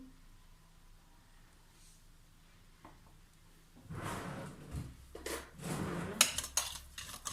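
Utensil scraping and clinking in a bowl as a lamb chop marinade with olive oil and bay leaves is stirred, starting softly and growing into louder, irregular stirring clatter over the second half.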